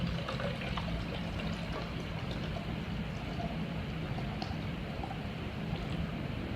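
Water is poured steadily into a Jetboil Flash cooking pot, a continuous close splashing trickle that stays even throughout without talk.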